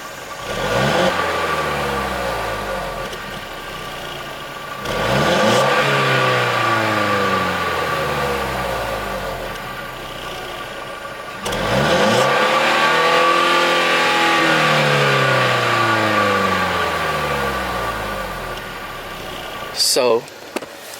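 A Mercedes-Benz C300 engine in Sport Plus mode revs up close and loud three times, each rise climbing to about 5,800 RPM and then holding near the limiter before falling back.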